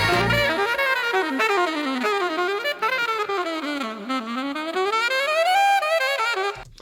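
Alto saxophone bebop solo, a rapid, agile stream of running notes sweeping up and down in long phrases, loud and continuous with no talking.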